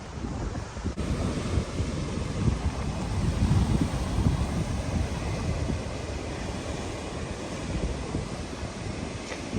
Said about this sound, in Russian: Волны больше 5 метров.